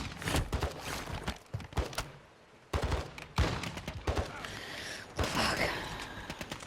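Gunfire in a DMZ online shooter match on Al Mazrah, sharp bursts and cracks arriving in clusters with quieter gaps between them, loud and close, with faint game noise in the background.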